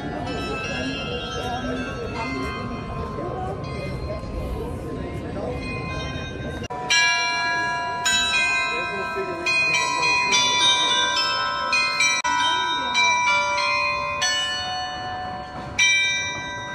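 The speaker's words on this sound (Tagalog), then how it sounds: "So yan yung maliliit na bell na parang urasan na tumutunog." Small bells chime in a clock-like sequence near the town hall in Düsseldorf, Germany, ringing out clear repeated tones that grow louder and busier partway through, over steady street ambience and background talk.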